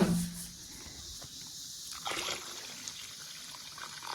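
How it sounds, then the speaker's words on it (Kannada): Water poured into a vessel over cut potatoes, a soft close trickling pour after a brief clink at the start, continuing quietly without voices. "ಅದು ಮುಳುಗುವಷ್ಟು ನೀರು ಹಾಕಬೇಕು."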